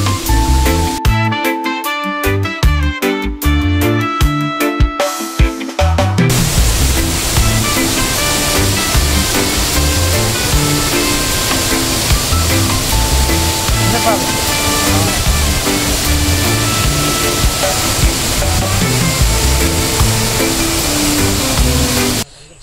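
Hulugan Falls in Laguna pours down as a dense, constant roar of falling water, partly overlaid by music.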